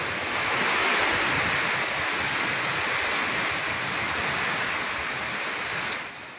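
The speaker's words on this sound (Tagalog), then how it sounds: "Sa bayan ng Santa Ana, nakakambal ng ulan ng lakas ng hangin." Strong wind and rain storm in the town of Santa Ana, Cagayan, a loud, continuous roaring rush of gusts and rain that holds steady before easing slightly at the end, with no voices.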